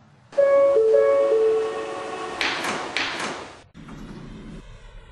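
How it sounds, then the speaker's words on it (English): Train doors at a station, an announcement tone followed by the doors sliding shut with two heavy thuds and a rattle, then the rumbling hum of the carriage interior settling afterward. "Stand clear of the closing doors."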